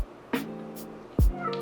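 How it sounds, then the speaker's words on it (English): A pet cat gives two loud, close meows, drawn out and wavering, separated by a short pause. "Tastes like my cat screaming at me."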